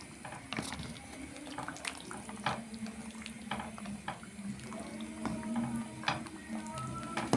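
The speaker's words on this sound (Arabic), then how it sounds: "نزلت بنص كيلو من المكرونه يا جماعه في ميه فيها ملح وفيها زيت نسلقها" Half a kilo of macaroni goes into a pot of salted, oiled water set to boil, giving a steady close-up watery churning and bubbling with faint clinks throughout.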